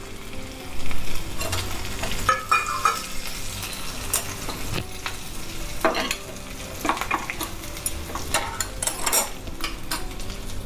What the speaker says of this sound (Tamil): இது ரெண்டும் முதல்ல கொஞ்சம் வறுப்படட்டும், அப்புறமா கருவேப்பிலை போட்டுக்கலாம்